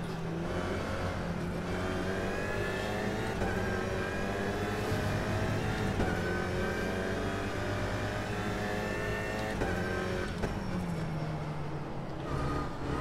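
Alpine A110 GT4 race car with a 1800 turbo engine in rFactor 2, its muted, soft-edged engine note rising and falling through repeated gear changes and accelerations over a long continuous stretch, with no talking.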